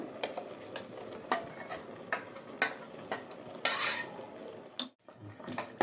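Ground masala is stirred into chicken curry in a metal pot, a close run of rhythmic clinks and scrapes of the spoon against the sides, with a louder rasping swirl midway and a short pause before more clinks.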